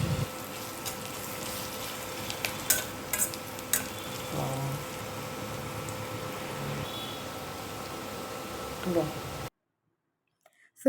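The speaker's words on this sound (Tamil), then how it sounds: "வெங்காயம் நல்லா வதங்கி கோல்டன் ப்ரௌன் வரட்டும்." Onions fry steadily in a kadai for pepper chicken, a continuous soft sizzle with occasional stirring clicks, close by and moderately quiet, ending abruptly in silence.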